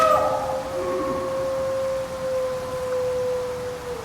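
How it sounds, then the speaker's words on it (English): A wolf in the survival video game Icarus gives a long, sustained howl, a single drawn-out tone that slowly falls in pitch, loud and clear over a steady hissy ambient backdrop. "that's the sound of a wolf"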